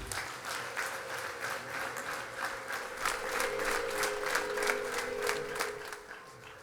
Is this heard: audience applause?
yes